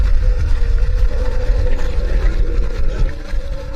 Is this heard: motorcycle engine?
yes